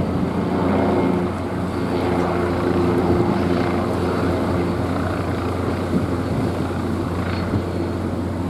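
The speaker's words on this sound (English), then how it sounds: "It's a helicopter here." A helicopter's engine drones steadily with a low rotor throb, sounding fairly close and constant against a faint outdoor background at Port Tampa, Florida, as cruise ships depart.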